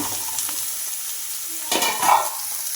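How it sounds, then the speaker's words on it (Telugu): Ridge gourd frying in a pan and being stirred, with a steady sizzle and a few scraping strokes of a spoon, louder near the end, with no voices. "బీరకాయ వేసి బాగా పెట్టుకోవాలి బాగా ఇలా ఇలా కలుపుతూ ఉండాలి"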